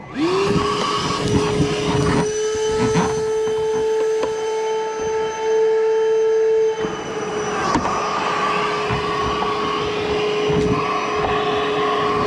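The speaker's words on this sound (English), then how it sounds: "Got the old vacuum. See if we can get all that crud out of there" A loud vacuum cleaner drones steadily with a high whine, briefly dipping and surging as the nozzle moves.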